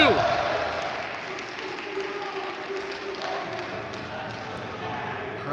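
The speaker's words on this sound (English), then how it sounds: "Crowd's starting to get into it for the shootout." A club ice hockey crowd at a Miami versus Ohio University game, murmuring and clapping during a shootout. A commentator talks over the steady arena hum with scattered claps and thuds.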